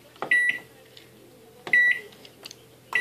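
Microwave oven melting milk chocolate for a homemade chocolate dip, with three short bright beeps spaced evenly over a low running hum, close by and clear.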